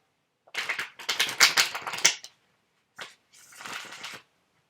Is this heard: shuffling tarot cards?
yes